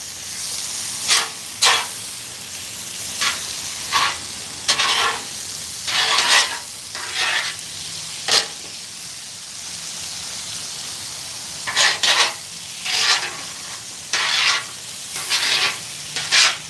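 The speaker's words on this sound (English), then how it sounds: "we are just putting together some fried potatoes" Fried potatoes sizzle steadily on a Blackstone griddle, with repeated loud metal spatula scrapes and flips coming in irregular bursts over the constant hiss.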